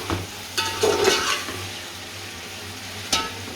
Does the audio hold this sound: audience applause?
no